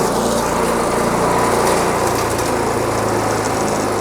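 A small engine on a 2E Micro-1 wood chipper shredder runs steadily at high revs with a buzzing, rattling roar, loud and close throughout, like a shredder chewing material.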